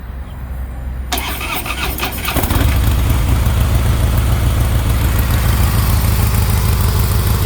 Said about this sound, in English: Yes, that's how stock exhaust sounds like.